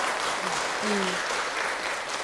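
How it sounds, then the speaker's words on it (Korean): Applause from a Buddhist temple dharma assembly audience honoring the vice abbot monk, a brief steady wash of clapping with a faint voice briefly heard over it. "이 자리를 빌어서 우리 부주지 스님께 큰 박수 한번 드리세요."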